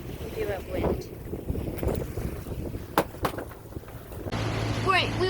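Wind gusting over a sailboat near Providencia island in Colombia, a rushing, buffeting roar with microphone wind noise, water sounds and occasional knocks from the boat.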